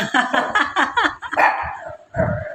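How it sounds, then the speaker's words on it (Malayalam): A pet dog indoors gives a run of close, loud barks and yips, several in quick succession, with a whiny edge between them. "കിടന്ന് ഉറങ്ങാനല്ലേ നീ കുരയ്ക്കുന്നത് മോനെ,"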